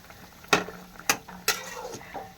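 Fish cooking in a pan at home, a faint sizzle under three sharp scrapes of a spatula or spoon against the pan at roughly half-second intervals, then a softer fourth scrape.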